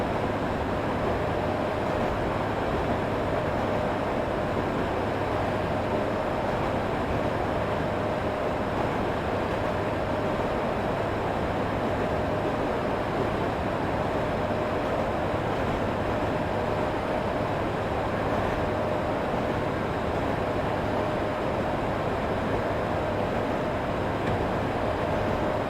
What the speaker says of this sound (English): I'm going to start slowing the train down.